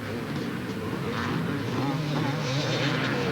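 Motocross motorcycles racing on a dirt track at Kincaid Park in Anchorage, Alaska, during a 1988 state championship round: a steady, moderately distant engine drone with faint buzzing that builds a little toward the end, no talk.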